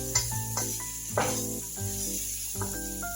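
Banana pieces dropped into a hot pan of oil hiss and sizzle steadily, with a few louder crackling bursts as they land and are stirred, over a background of faint tonal hum.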